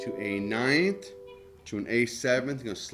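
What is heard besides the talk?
No everyday noises stand out.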